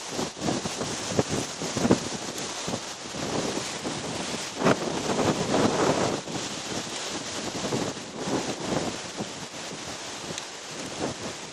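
Strong wind roars continuously, buffeting the microphone with gusty rumble and no pauses throughout.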